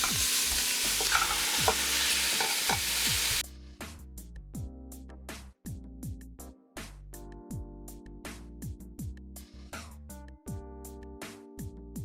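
Meat for lasagna sizzles steadily in a hot pan, loud at first and then softer, while a spoon stirs and scrapes with repeated clinks.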